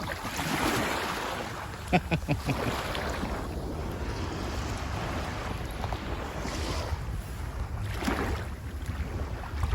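Waves wash steadily at a public beach in a continuous, blustery surge with wind buffeting the microphone and a few faint clicks, no clear talking.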